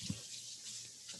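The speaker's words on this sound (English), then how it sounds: "I'm going to rinse my hands." Running tap water rinses hands at a kitchen sink while preparing Persian barbecue, a steady close hiss of water broken by a brief splash near the start, with no talking.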